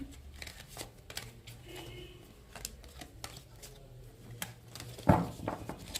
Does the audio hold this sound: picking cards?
yes